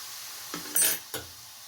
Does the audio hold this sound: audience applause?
no